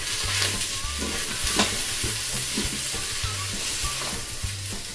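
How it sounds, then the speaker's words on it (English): Garlic sizzles and fries with sausage in an Instant Pot while a utensil scrapes and stirs in repeated rhythmic strokes, close and steady, with no talking. "you only want to include this for about 30 seconds, stirring it around with your sausage"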